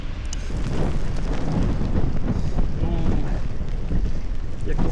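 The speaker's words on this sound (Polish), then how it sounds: "wieje wiatrem na okulary prosto w ryj" Wind buffets the microphone in a continuous low, rumbling roar that stays loud and steady throughout, with no clear voices.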